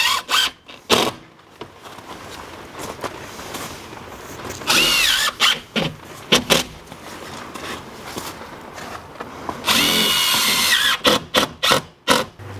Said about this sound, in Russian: И также прикручиваем саморезами,